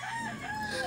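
A molting rooster crows close by, a drawn-out call with a few bright tones over a hushed background.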